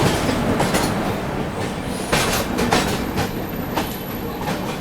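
Another train rushes past in the opposite direction, heard from aboard the Tamil Nadu Superfast Express in a 2AC coach. Its loud, close rush and rumble carry a steady clickety-clack of wheels throughout.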